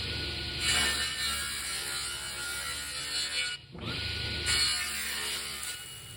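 A table saw rips a wood board, its blade holding a loud steady whine with a brief dip mid-cut before the high-pitched spinning resumes, close and without talk.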